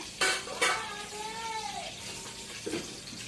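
Whole spices frying in hot oil in a pan for biryani, a steady close sizzle with a couple of sharp bursts as the spices go in and a rising hiss that lingers.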